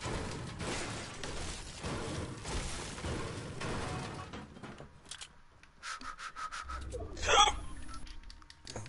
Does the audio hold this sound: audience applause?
no